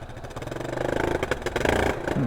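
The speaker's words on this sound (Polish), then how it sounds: "No dławi się silnik." A car engine runs roughly and unevenly, choking, sputtering and chugging with rising revs and clattering bursts, close by and loud.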